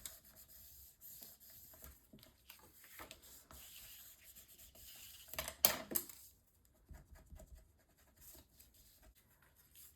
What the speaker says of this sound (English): Then I will burnish this down.